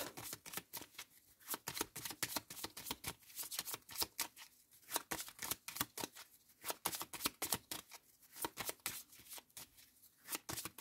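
Tarot cards are shuffled and laid out on a table in quick bursts of crisp flicking and slapping, close and fairly quiet, with short pauses between handfuls.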